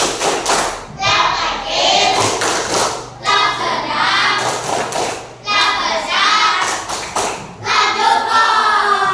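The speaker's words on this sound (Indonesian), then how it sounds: "Berikan tepuk love untuk Ramadan. Tepuk love." Children in a grade 4 classroom do the rhythmic 'tepuk love' clap, a run of sharp thumping hand claps mixed with young voices chanting and talking throughout.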